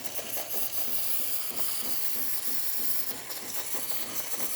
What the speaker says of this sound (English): Nice steam coming out from the tank.